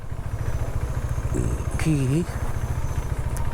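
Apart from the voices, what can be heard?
motorcycle engine in first gear on a mountain road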